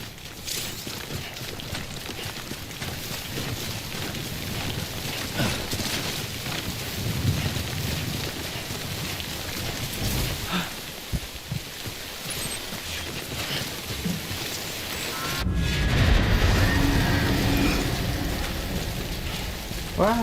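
Steady heavy rain and rumbling thunder of the timefall in the video game Death Stranding form a dense, continuous wash, with a louder crack and a deeper swell of the storm near the end.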